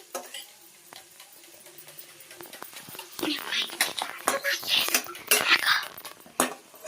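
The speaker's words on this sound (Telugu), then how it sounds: "ఇప్పుడు మేము మిక్సింగ్ చేసుకుంటున్నాము." A spoon stirs egg curry masala in a pan, with repeated clinks and scrapes against the metal that grow busier and louder partway through, along with a faint sizzle and soft whispering in the background.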